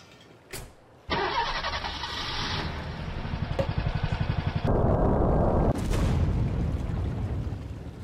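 A rocket lifts off in the Henry Stickmin video game: a loud ignition burst gives way to a sustained roaring, rumbling thrust with rapid crackling pulses, then a broader steady roar that continues to the end.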